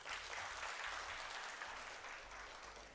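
An audience at the Tadoba Festival CSR conclave claps in a sustained, dense round of applause, fairly distant and even throughout.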